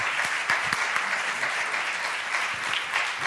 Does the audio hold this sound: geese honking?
no